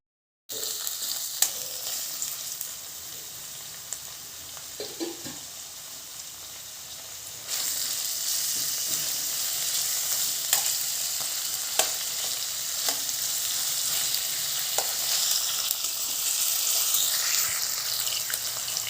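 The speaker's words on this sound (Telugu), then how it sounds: "ఉల్లిపాయ టమోటా వేగనిద్దాం బాగా మెత్తగా వేగిని ఈ ఉల్లిపాయ బ్రౌన్ కలర్ కావాలి" Onions and tomatoes fry in a pan for raw papaya curry, giving a continuous close sizzle with occasional stirring scrapes that grows a little louder partway through.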